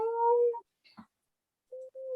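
A human voice imitates a cat as a creaky door, drawing out a strained, creaky meow, pausing briefly, then giving another short, wavering meow.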